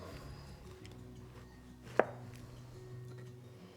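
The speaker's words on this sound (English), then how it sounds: "you're gonna try and make as thin of a slice as possible" A knife cuts a thin slice from a pineapple, giving one short, sharp chopping thud at the board partway through, with a steady low room hum before and after.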